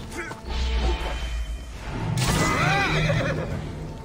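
A horse whinnies loudly in Assassin's Creed Origins over thumping impacts and game-like clatter, the neigh rising and falling in a long, close cry.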